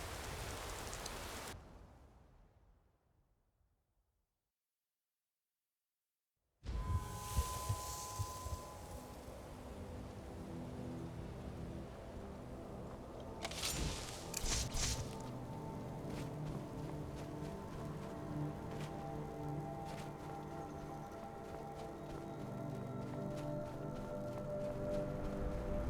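Steady rain in the video game The Shadow of Meresis, a broad hiss of drops falling on surfaces that cuts to silence for a few seconds, then returns denser and louder and continues evenly.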